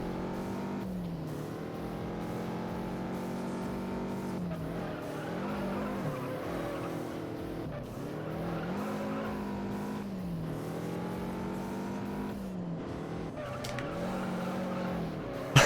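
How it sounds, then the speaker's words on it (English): Handbrake turns in the racing game Juiced give long, wavering tire squeals over a steady engine drone, repeating in several drawn-out skids at moderate loudness. "I tried hitting handbrake there just to see how much turning it would give me, and it actually kind of worked."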